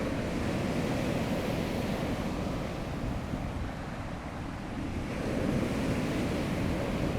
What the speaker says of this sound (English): these aren't particularly strong waves, I wouldn't say, but you can still feel the power behind them